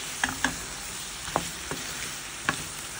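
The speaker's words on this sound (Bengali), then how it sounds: "শসাটা অ্যাড করে আমি জাস্ট 3-4 মিনিটের মতো কষাবো ভালো করে" Cucumber and prawns stir-frying in a pan on high heat, a quiet steady sizzle broken by a handful of sharp spatula scrapes and clinks scattered through the stretch, with no talking.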